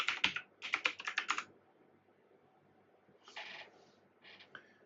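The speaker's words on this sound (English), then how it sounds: "start typing Splunk, and hit tab, and then we hit enter" Quick bursts of typing on a computer keyboard during a Linux software install, with two clusters of rapid clicks followed by a few softer keystrokes, close and alone in a quiet room.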